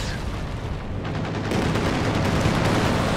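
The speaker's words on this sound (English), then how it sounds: "they're taking some light damage from the Sturmwick's 23mm cannons" Sturmtiger 23mm cannon fire in Company of Heroes 2 mixes into a thick wall of gunfire and explosions, with rapid crackling bursts growing louder in the second half and no pauses.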